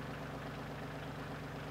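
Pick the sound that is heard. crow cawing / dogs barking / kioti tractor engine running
kioti tractor engine running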